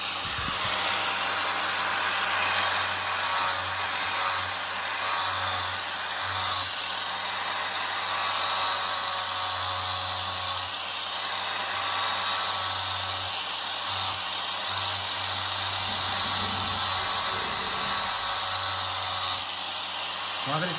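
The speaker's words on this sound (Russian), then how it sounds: "Берем ножик и тоже точим" Angle grinder sharpening the cutting edge of a knife, a continuous close, high-pitched whirring grind with brief dips in intensity, steady throughout.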